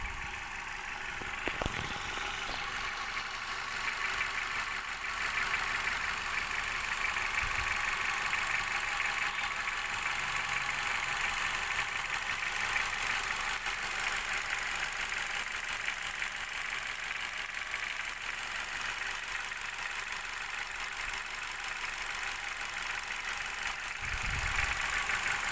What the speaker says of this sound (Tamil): ஸோ இன்ஜின் நாய்ஸ் உங்களுக்காக.